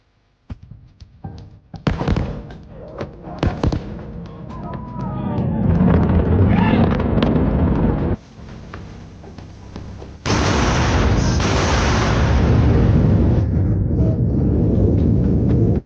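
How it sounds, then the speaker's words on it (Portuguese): A few sharp, booming blasts crack out in quick succession as rocket boosters come in to land, sonic booms that then give way to a long, loud roar of rumbling noise. "dá para ouvir explosões super estranhas"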